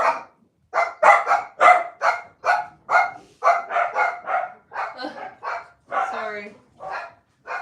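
Several indoor dogs bark loudly and repeatedly in quick bursts at people outside, close to the listener, with a person speaking briefly among the barks.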